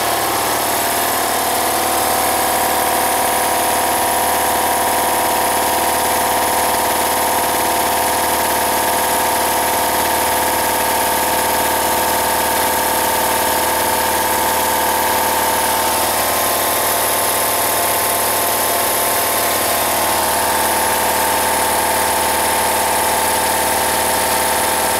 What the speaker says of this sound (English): Now for the Husky compressor,